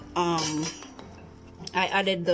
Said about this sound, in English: I'm gonna start off by whisking the bananas and the sugar together